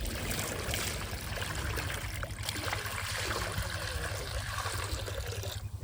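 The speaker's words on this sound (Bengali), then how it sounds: "কড়াইয়ে কিছু পরিমাণ জল দেব।" Water poured into a wok for boiling peas in a village kitchen, heard as a continuous splashing pour that stays steady and close before ending abruptly.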